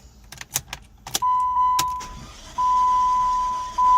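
A Chrysler PT Cruiser engine is cranked but spins over abnormally fast without starting: a few clicks and knocks, then a steady whirring starter drone with a high whine that stops briefly and resumes, close and moderately loud.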